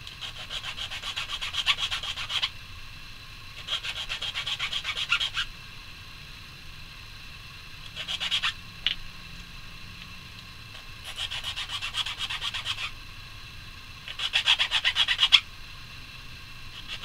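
An edge of a glider part is sanded by hand in five rhythmic bursts of scratchy rubbing strokes, separated by quiet pauses over a low background hum.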